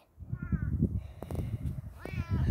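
A cat meows twice, clear and close, over a background of rustling and handling noise.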